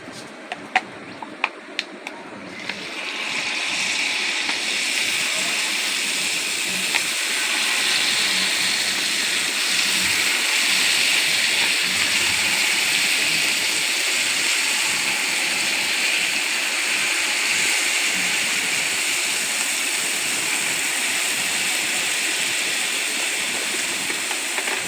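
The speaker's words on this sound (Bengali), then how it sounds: "এবার আমি জিলাপিগুলো ভেজে নেব।" Jalebi frying in a pan of hot oil, a steady loud sizzle and hiss that starts after a few faint clicks and keeps an even, unbroken texture to the end.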